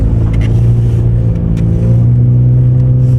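A 10th gen Honda Accord in sport mode hums with a loud, steady low engine drone from inside the cabin, the pitch rising slightly partway through.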